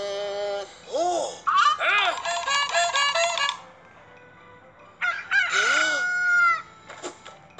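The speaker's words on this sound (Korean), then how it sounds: "그때 닭이 울렸어요." A rooster crows loudly and close in a children's Bible story, giving two long rising-and-falling cock-a-doodle-doo calls separated by a pause, with short clucks at the end.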